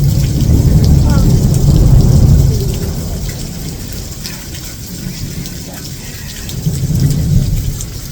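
A heavy thunderstorm with steady rain hammers down around a parked RV, and deep thunder rumbles loudly at the start, fades, then swells again near the end. No one speaks.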